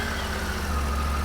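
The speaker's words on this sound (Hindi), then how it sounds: "तो एक बार बाइक चालू होता हूँ।" A Triumph motorcycle engine idles steadily at close range, a continuous low, even drone with no starting burst and no talk.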